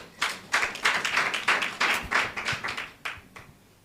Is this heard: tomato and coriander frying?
no